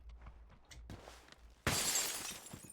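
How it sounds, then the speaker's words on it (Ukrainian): Glass window smashed in the shooter game PUBG, a sudden loud bright shatter with scattering shards after a couple of seconds of quiet footsteps and faint movement, no talk. "Це я розбив скло."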